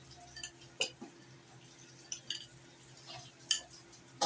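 A spoon stirs chicken salad in a bowl, making soft scattered scrapes and light clinks at irregular intervals, quiet and close with low background hum.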